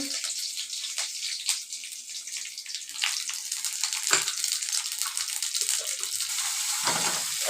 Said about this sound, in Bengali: এবারে আমি দুটো কাঁচা লঙ্কা ফোড়নে দিয়ে দেবো